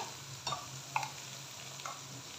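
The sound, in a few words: cumin seeds sizzling in hot oil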